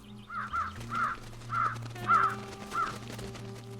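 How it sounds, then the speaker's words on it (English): Several crows caw in a game set in Truberbrook as they are fed almonds, giving about five separate harsh calls spread evenly over a few seconds over a steady low musical drone. "I guess we're gonna feed them. Over here, little birdies."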